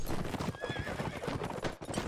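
Horses in a video game battle clatter with rapid, overlapping hoofbeats, close and busy, and a short whinny rises briefly partway through.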